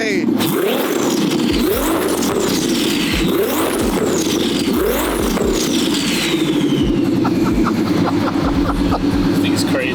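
A twin-turbo Ferrari F12 revs loudly nearby, its engine note sweeping up and falling back repeatedly before settling into a sustained, raspy drone, with voices talking over it.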